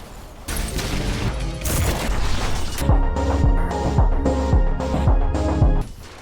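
Rail cannon in the game Ultrakill, loud heavy blasts and crashing impacts, followed by a series of punchy, evenly spaced hits at close range.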